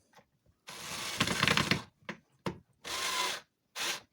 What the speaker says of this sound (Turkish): Eşit şekilde tüm menteşeleri sıkıştırıyoruz.